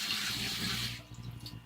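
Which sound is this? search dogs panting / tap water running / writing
tap water running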